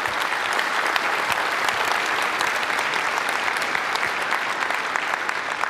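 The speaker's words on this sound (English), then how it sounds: "just a round of applause" A conference audience applauds steadily, with dense, sustained clapping from a crowd throughout and no voices standing out.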